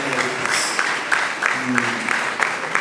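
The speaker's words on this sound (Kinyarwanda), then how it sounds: "Izi ngizi mwazakirije amashyi." An audience claps at a church choir gathering, a dense, steady patter of applause mixed with voices throughout.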